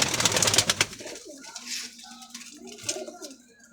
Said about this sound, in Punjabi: ਸਲੇਟੀ ਨੋਕੇ ਵੈਸ਼ੀ ਕਬੂਤਰ ਨੇ ਸਾਰੇ।